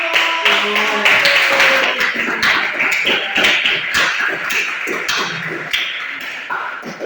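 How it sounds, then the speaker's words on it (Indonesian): Classroom students clapping for a discussion group, a quick burst of hand claps and taps with some shuffling and brief voices, uneven and close by. "tepuk tangan untuk Kelompok"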